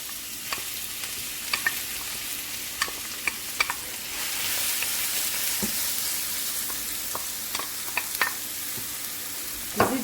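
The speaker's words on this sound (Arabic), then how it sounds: "درنا الزيت هنا يسخن، نديرو البصل" Onions frying in hot oil in a pan, with a steady soft sizzle running throughout and scattered brief clicks and taps from stirring utensils, with no voices.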